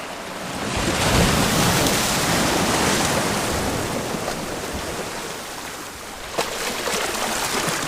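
Ocean waves break on the rocky shore at Elgol on Skye, with a steady, loud wash of surf and wind noise and a brief splash near the end.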